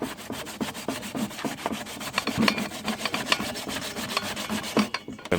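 Cassava is grated by hand on a grater outdoors while making Jamaican bammy. The close, steady rasping strokes repeat in a quick rhythm for the whole stretch, with no voices.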